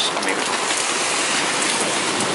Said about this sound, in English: It's a serious thunderstorm, and I'm just sheltering here.